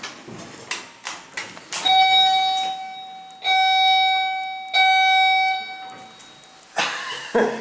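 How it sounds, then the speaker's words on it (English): Inside a hydraulic elevator in a downtown parking structure in Plainfield, Indiana, a tonal chime rings several times, some tones held and ringing out, mixed with clicks and mechanical knocks of the car. "That was the weird chime"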